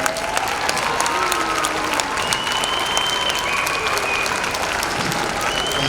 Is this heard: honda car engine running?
no